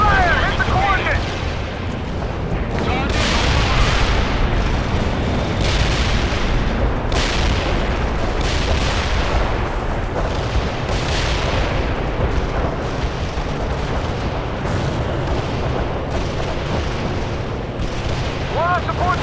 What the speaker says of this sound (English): Medium artillery for fire support now!